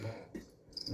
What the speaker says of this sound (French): il me casse les couilles, le grillon